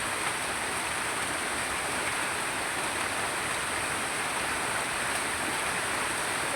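Heavy rain pours down in a steady, dense broadband hiss that stays loud and even throughout, with no voices or other sounds over it.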